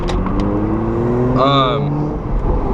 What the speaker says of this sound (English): Now that I got the Catless downpipe installed. Yeah, as y'all can tell, it sounds a lot better than it did